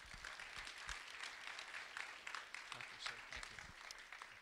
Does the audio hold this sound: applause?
yes